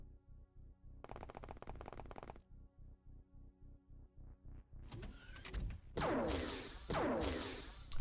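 Gunfire in the game OpenXcom, bursts of rapid mechanical shots in a steady repeating rhythm, followed by sharper, louder crackling impacts near the end, with no voices.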